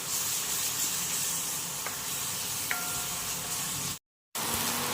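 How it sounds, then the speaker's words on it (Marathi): Masala frying in oil for dhaba-style sev bhaji: a continuous hissing sizzle with a couple of faint metallic taps, broken by a short moment of silence before the sizzle returns. "असाच अजून एक दोन ते तीन मिनटासाठी अजून चांगलं परतवून घेते"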